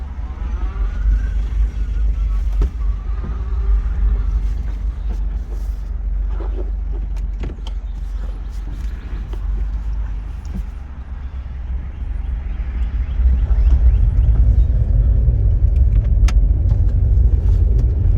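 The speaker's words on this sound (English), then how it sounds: "Reverse. We're backing up." Smart car reversing on Tybee Island, Georgia: a continuous low engine rumble with faint interior clatter, swelling louder near the end, heard up close from inside the vehicle.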